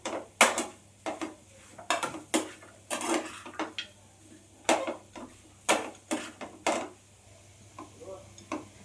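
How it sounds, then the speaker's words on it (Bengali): Ground spices stirred into grated beetroot and carrot in a pan, a run of sharp metal spoon knocks and scrapes against the pan in uneven bursts, close and moderately loud over a faint steady hum. "দিয়ে আবারও ভালো করে আমি সব মশলা বিট গাজরের সাথে ভালো করে মিশিয়ে নেব।"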